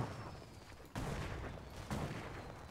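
Gunfire in the video game Counter-Strike, two sharp bursts about a second apart over a steady busy game backdrop, no talk.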